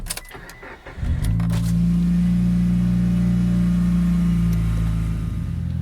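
A Mitsubishi Evo 8 fitted with a Buschur Racing exhaust fires up after a second of quiet, then settles into a loud, steady, deep idle burble with a constant low drone held close to the microphone.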